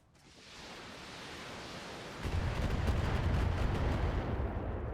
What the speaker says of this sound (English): They're long-range missile turrets, so they're shooting indirect because of the sensor lock.